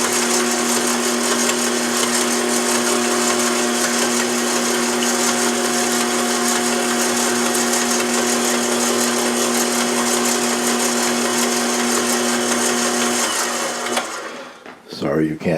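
An electric mixer whirs steadily in a bowl, blending sourdough starter with water, a constant buzzing motor drone for about fourteen seconds before it cuts off abruptly.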